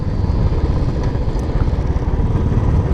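A motorcycle cruises along a road in the Western Ghats near Mahabaleshwar, its engine a loud, steady low rumble mixed with buffeting wind noise throughout.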